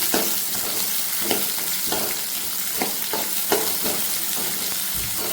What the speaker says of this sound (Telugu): ఆవాలు పప్పు వేగిన తర్వాత ఎర్రగడ్డలు, పచ్చిమిర్చి,